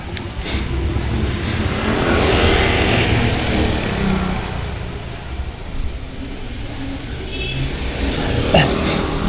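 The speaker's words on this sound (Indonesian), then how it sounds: "Banyak motor itu lalu lalang, itu melalui akses jalur pintas tersebut." Motorcycles pass back and forth along a shortcut road near a university, with steady engine rumble and road noise that swells and fades as riders go by.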